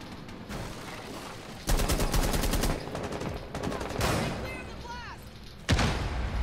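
Gunfire from the Rainbow Six Siege video game comes in loud automatic bursts with sharp rapid shots, separated by brief quieter gaps. Other game effects sound between the bursts, and a player's voice seems to be heard alongside.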